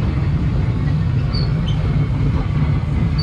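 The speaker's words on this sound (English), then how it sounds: "We're now inside the train." Kiddie train ride at an amusement fun park, heard from inside a car as it moves: a steady, loud low rumble and rattle throughout, with faint high squeaks and no talking.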